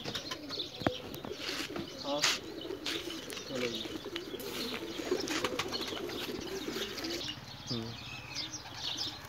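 Pigeons in a loft pecking at grain give soft repeated coos, with bursts of wing flapping and a few small chirps, while voices murmur faintly in the background.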